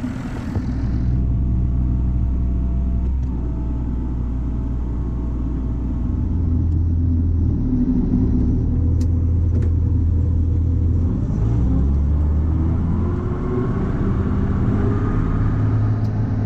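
A tractor pulling a RhinoAg Epic 4155 batwing mower rumbles loud and steady throughout, its deep engine drone shifting slightly in pitch as it works across an overgrown field.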